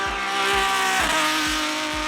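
A Lamborghini V12 in the racing game Asphalt 8 revs hard and loud, with a sustained high-pitched engine howl and a deep thump repeating about every half second beneath it.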